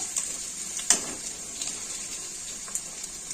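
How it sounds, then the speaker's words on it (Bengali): Potato pieces frying in hot oil, a steady soft sizzle with a few louder crackling pops, close and alone without talk. "দিয়ে দিচ্ছি তেলের মধ্যে। এইভাবে লাল লাল করে ভেজে নেব।"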